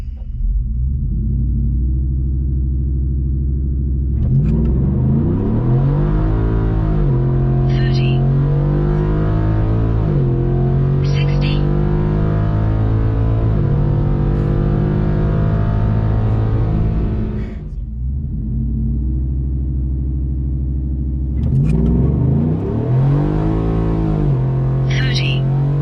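Ford F-150 with the 5.0 V8 accelerating hard in two-wheel drive sport mode with traction control off, a loud, sustained engine roar with climbing harmonics through shifts, a brief dip near the end, then another hard pull.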